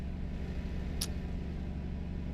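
A truck engine in the video game Euro Truck Simulator 2 makes a steady, low, droning rumble that holds even throughout, with one brief high click partway through.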